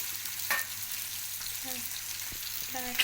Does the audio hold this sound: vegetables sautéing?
yes